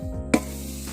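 Rice flour dry-roasting in a pan for avalose podi gives off a soft, low background rumble and hum, broken by one short, sharp scrape of stirring.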